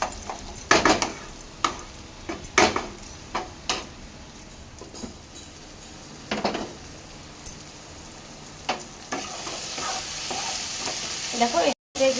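Banana flower and prawns sauté in a pan, a steady low sizzle broken by irregular scraping stirs and occasional clinks of the spatula, close and moderately loud with no voices.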